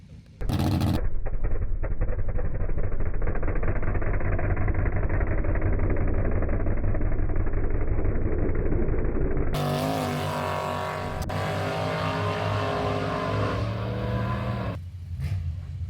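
A Chevy drag car engine makes a pass, a loud sustained roar that climbs through the run, then shifts into a rougher, lower engine sound that tapers off as the car slows.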